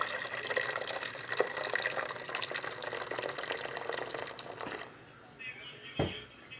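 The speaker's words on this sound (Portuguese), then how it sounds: "Eu vou vir aqui agora com água fervente, tá quente, e vou colocar." Boiling water pours steadily and loudly into a pot for several seconds, then stops, leaving a faint quiet hiss and a soft knock.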